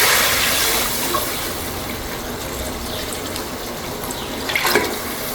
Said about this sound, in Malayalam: ഒരു പാത്രം അരിയാണെങ്കിൽ 2 പാത്രം വെള്ളം ഒഴിച്ച് കൊടുക്കാം